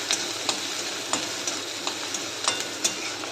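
Onion and tomato sauté in a pan with a constant close sizzle, broken by regular sharp scrapes of a spoon stirring about every half second; no one speaks.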